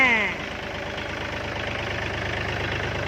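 A tractor engine idles in a rural rice-planting setting, a steady low rumble with a regular knocking pulse that carries on without a break at moderate distance.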